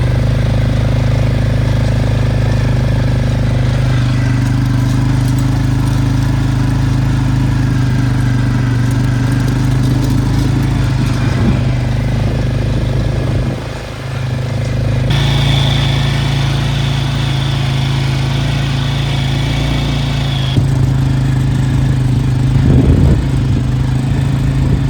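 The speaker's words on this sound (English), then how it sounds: "literally taking the four-wheeler or the UTV or whatever we have, spending the time to pack the entire thing with the tires." A four-wheeler or UTV driving over a freshly seeded summer deer food plot to pack the soil with its tires, its engine droning loud and steady up close, with shifts in pitch as it moves and no talk.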